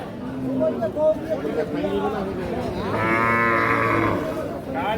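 A Sahiwal cow and calf at the Ambari livestock market in Parbatipur, Dinajpur, let out a drawn-out, close moo over busy market chatter and someone talking.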